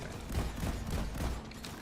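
Rapid gunfire from weapons in the co-op mining shooter Deep Rock Galactic, played on console, a dense continuous burst of shots at steady loudness filling the whole stretch with no talk over it.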